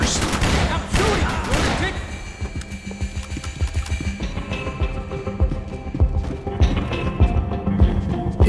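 Gunfire in the video game Max Payne 3 during a holdup: dense bursts of shots at the opening, then a sustained rattle of rapid fire with scattered impacts, fairly loud and close throughout.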